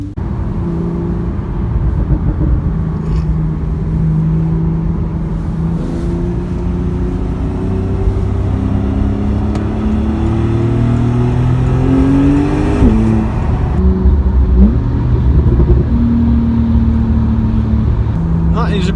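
A Porsche sports car on a road tour drives and accelerates, its engine a loud, close, continuous roar with revs climbing and falling through the gears.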